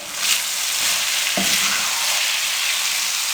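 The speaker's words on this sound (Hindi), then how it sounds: "अब इसको हम अच्छे तरीके से मिक्स कर लेंगे। अब इसको हम 5 से 7 मिनट के लिए इसकी अच्छे तरीके से भुनाई करेंगे।" Urad dal roasting in a hot pan, a steady dry sizzle with a short scrape of stirring partway through, close and even.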